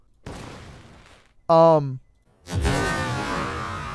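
A bottle rocket explosive goes off in the Roblox game Dead Rails as a short whooshing launch, followed by a brief tonal effect and then a louder, sustained burst of noise.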